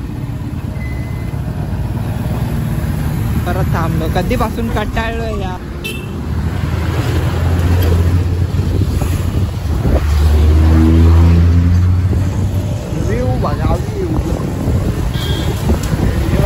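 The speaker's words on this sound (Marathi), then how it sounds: "हे बघा फुल ट्रॅफिक लागले." Road traffic sits jammed on the way to the Aarey picnic point, with engines rumbling and a horn or two, heavy wind buffeting the microphone, and people talking throughout.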